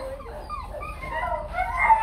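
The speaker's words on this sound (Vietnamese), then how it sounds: "con chó con nó đuổi ra chơi" A Rottweiler puppy whimpers during play: a string of thin, rising and falling whines, close and fairly loud, with no talk.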